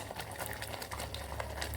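A steady, soft liquid hiss and bubbling as thin tamarind water is poured into a hot pan for gongura pulusu, continuous and close.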